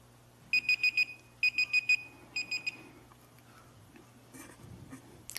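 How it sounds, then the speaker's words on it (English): A timekeeper's final electronic bell at a candidates' debate rings in three quick bursts of rapid repeated tones, each group a short trill, followed by quiet faint rustling. "and the final bell will sound like this."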